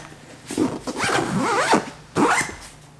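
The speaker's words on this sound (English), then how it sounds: "you can see it zips up perfectly fine" A backpack zipper is pulled closed in several quick rasping strokes, close by, with a short pause before a final tug.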